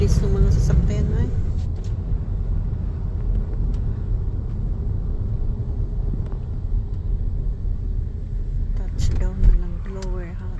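Passing cars heard from inside a vehicle on a road trip near Lower Hutt, a steady low road rumble with occasional whooshes, under people talking at the start and end.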